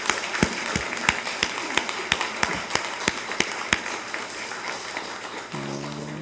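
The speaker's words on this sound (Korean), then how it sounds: "우리 한 박수해 보세요" Church congregation applauding during a Sunday worship service, scattered claps and taps over steady room noise, fairly faint, with a brief tonal hum near the end.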